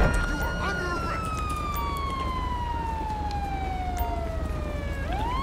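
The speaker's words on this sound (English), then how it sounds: "Turn my siren off here." A police siren in Grand Theft Auto V wails in a long falling sweep over steady engine rumble, then starts to climb again at the end.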